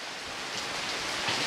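Steady, dense hiss of rain falling continuously on a shelter at a waterfall in Ubon Ratchathani, Thailand, even and moderately loud with no pauses.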